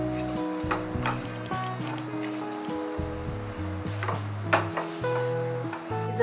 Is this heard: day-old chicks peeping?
no